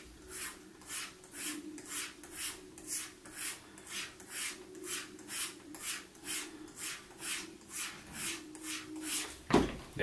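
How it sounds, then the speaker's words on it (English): Palms rubbing back and forth along a leather razor strop for a carbon steel straight razor, a steady rhythmic swishing of about twenty close strokes, ending in a sharper knock. "just rub your palms along it real quick"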